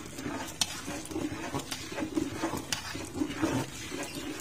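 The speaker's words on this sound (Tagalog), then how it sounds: "Kailangan siyang haluin ng haluin." Spoon stirring a thickening cornstarch mixture in a pan on the stove, soft repeated scraping and bubbling over a low sizzle, steady and close with no talking.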